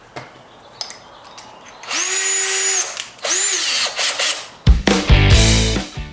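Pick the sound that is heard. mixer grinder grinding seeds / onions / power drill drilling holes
power drill drilling holes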